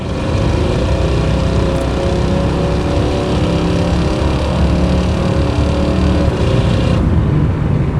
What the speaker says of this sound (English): this one does have an aftermarket exhaust set on it with full-length headers, duals, Flowmaster style mufflers, and then tailpipes